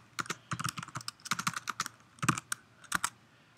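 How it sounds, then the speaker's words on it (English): Quick keystrokes on a computer keyboard enter a password during a Windows server logon, coming in irregular bursts of crisp clicks with short pauses, close and clear with no voices. "we're going to type in the password"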